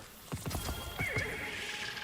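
Neighing and clip-clopping hooves of the mystical Star Horse in a video game, a rapid run of hoof beats followed by a bright whinny, close and clear over a faint background.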